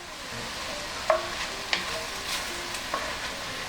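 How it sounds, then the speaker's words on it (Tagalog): Jackfruit sautés in a pan for a coconut milk dish with blue crab, a soft steady sizzle close by, broken by a few light clicks of a utensil against the pan, with no voices. "At itutuloy lang natin ang paggisa dito sa langka."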